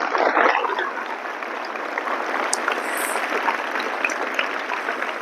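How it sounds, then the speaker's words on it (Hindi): Schoolchildren in a school hall give a loud, steady round of applause, a dense, even wash of clapping that holds for several seconds. "जोरदार तालियां।"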